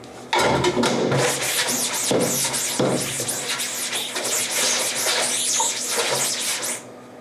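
Water rinsing a screen-printing screen during cleanup, a loud continuous spraying rush with brushy scrubbing textures, close and steady throughout.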